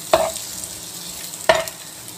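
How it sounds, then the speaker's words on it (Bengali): A spatula scrapes and stirs beaten egg frying in a pan, two short distinct scraping strokes over a soft, steady sizzle. "এইভাবে নাড়া দিয়ে দিবেন"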